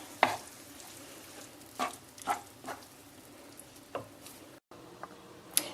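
A mushroom risotto preparation being stirred in a bowl or pan, heard as a handful of separate soft scraping and tapping strokes spaced out over a quiet background, with a brief pause near the end.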